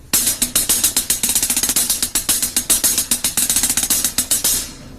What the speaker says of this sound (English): Okay, so in a string of 16th notes, it might sound like this.